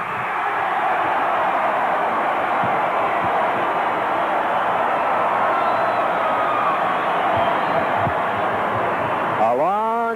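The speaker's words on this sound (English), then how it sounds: "A long and sustained cheer for the Lions." A gym crowd at a 1976 state finals high school basketball game roars in a long, steady cheer for the Rushville Lions, loud and sustained throughout, ending with an announcer's voice starting to speak.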